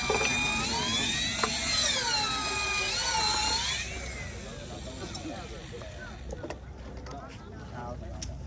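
A power tool whines with a rising and falling tone as it tightens nuts on the fittings of a house post, then cuts off and leaves quieter clicks and background noise.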